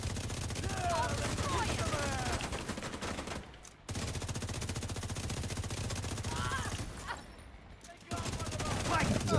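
Sustained video-game gunfire cutting down a dense crowd of enemies during a mission, rapid continuous bursts loud and close, briefly dropping out twice before resuming, with faint talk mixed in.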